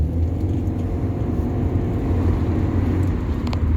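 A car on its first proper drive accelerating through the gears, a steady low engine drone and road rumble heard from inside, loud and continuous with little change, no talking.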